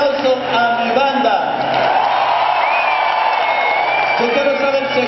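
Live audience at a merengue concert applauding and cheering for the band, a steady, dense crowd roar with scattered whoops sustained throughout.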